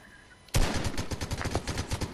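Fortnite gunfire starts abruptly after a quiet half-second, then a rapid, steady string of loud automatic shots continues to the end, with no talking over it.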